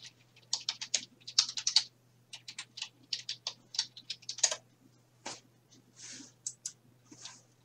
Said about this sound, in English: One day I'll remember to type the password right.